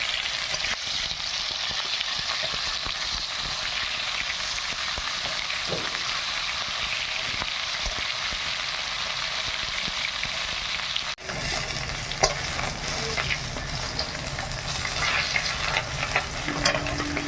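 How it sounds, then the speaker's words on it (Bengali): Steady, loud frying sizzle fills the whole stretch, a dense crackling hiss from fish frying in a hot pan with occasional stirring sounds. "মাছটা ভাজা হয়ে গেছে, তুলে নেই।"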